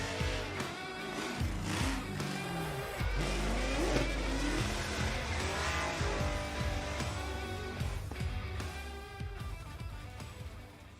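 A Formula Drift car's engine screams at high revs through a qualifying run, pitch rising and falling as it holds a drift around the course, with tire squeal mixed in, loud and continuous before fading slightly at the end.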